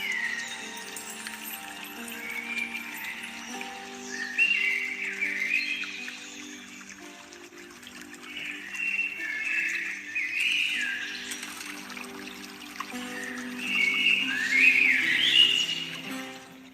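Birds chirp and trill in bright bursts over a steady droning, hum-like background recording, the calls rising in waves and growing strongest near the end, moderately loud and unbroken.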